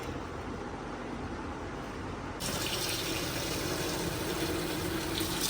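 Tap water pours steadily into a pot to rinse soaked urad dal (black gram), a constant rushing stream that suddenly grows brighter and louder partway through, with no voices.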